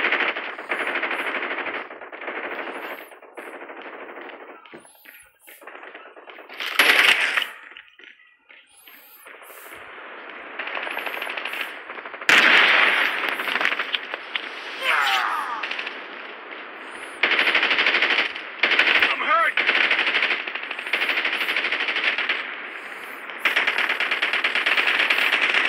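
Rapid automatic gunfire in a Call of Duty Mobile team deathmatch, loud dense bursts of machine-gun fire crackling in long continuous strings with brief gaps, close and dominant.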